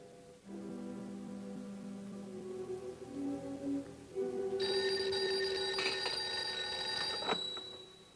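A telephone bell rings in an old television drama scene, a bright, sustained ringing tone that starts midway and holds for a few seconds over a soft tonal background, with no speech.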